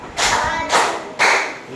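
A classroom of students gives three unison claps, each sharp burst evenly spaced about half a second apart, close and clear in a small room.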